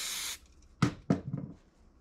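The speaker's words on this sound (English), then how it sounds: "I'll spray both sides." A short hiss of cleaner sprayed on both sides of a coil machine's armature bar, then a pause and two quick sharp bursts of handling noise close by.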